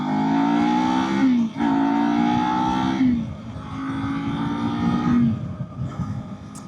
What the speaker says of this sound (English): this is a very nice bike to ride